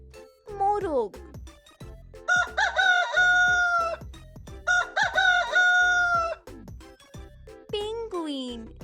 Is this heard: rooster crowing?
yes